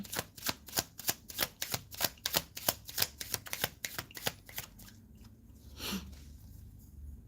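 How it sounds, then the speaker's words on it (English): Rapid riffle of tarot cards being shuffled, a quick run of crisp flicks for about five seconds, then a softer brush and quiet. "we're going to keep doing this, shuffling"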